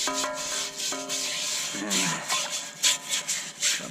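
Rubbing and scrubbing on a rusty cast iron skillet being cleaned after electrolysis, a close rasping friction sound in short strokes, with a few tonal clanks and some background noise.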